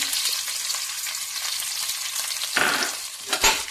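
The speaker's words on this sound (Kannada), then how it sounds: "ಅದನ್ನು ಚೆಂದ ಫ್ರೈ ಮಾಡಬೇಕು, ಸ್ವಲ್ಪ ಕೆಂಪಾಗೋ ತನಕ" Two onions frying in about four spoons of oil in a pan, a steady close sizzle with a couple of louder crackling bursts from stirring near the end, no talk.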